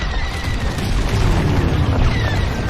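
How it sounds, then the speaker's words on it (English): A core explodes in the Star Wars: Squadrons video game as a dense, continuous roaring blast, loud and booming for nearly three seconds with a crackling, rumbling texture. "Detonate the core, now!"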